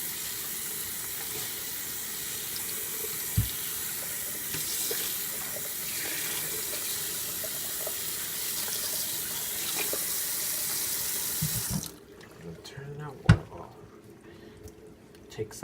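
Tap water runs steadily in a sink while shampoo is rinsed out of a wig, with a voice talking now and then, before the flow cuts off and a few handling clunks follow.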